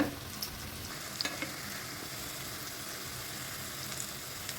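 Egg vada batter frying in oil on a slow fire, a steady soft sizzle throughout with a few faint crackles, fairly quiet and with no talking.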